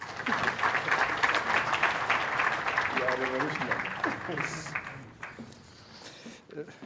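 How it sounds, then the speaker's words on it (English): A crowd at an African Union ministerial meeting applauds steadily, dense clapping filling the first seconds before thinning out, with a voice speaking over the fading tail. "please welcome him with a thunderous round of applause"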